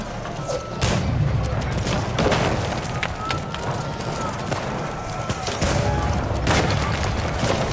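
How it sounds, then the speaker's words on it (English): Cannons firing in a video game battle, heard as repeated booming blasts and fusillade-like bursts over a dense, noisy backdrop of game sound, with a talking voice present. "Man, these cannons are crazy."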